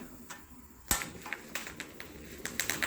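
Portable camping gas stove igniter knob clicking, a sharp snap followed by several quick light clicks and ticks, close and fairly loud against a quiet background.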